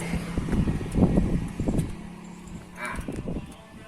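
A new motorcycle with its stock exhaust pipe freshly cut open, a close, uneven low rumble with throaty pulses that swells near the start and then settles back toward idle.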